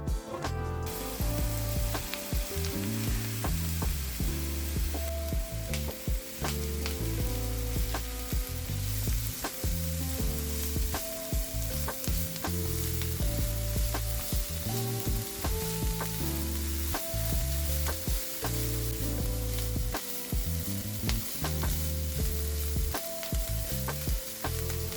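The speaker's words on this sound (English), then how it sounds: "Add the grated carrot to the pan and stir gently." Grated carrot sizzles with minced meat in a frying pan as it is gently stirred, a steady hiss lying under loud, melodic background music for the whole stretch.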